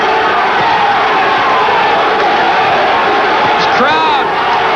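Crowd at a boxing match between Joey Ruiz and Harold Brazier cheering and roaring steadily, a loud continuous wash of voices with a commentator talking over it and a sharp whistle-like cheer near the end.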